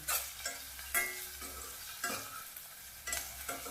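Onions being stir-fried in oil for a North Karnataka capsicum palya, a steady close sizzle broken by regular scraping strokes of a spatula against the pan, about one every half second, with no talk.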